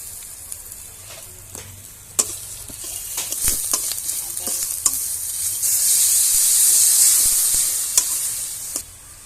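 Garlic and ginger paste sizzling in a hot oiled pan, a hiss that swells into a steady bright fry, punctuated by clinks and scrapes of stirring, close and without talk.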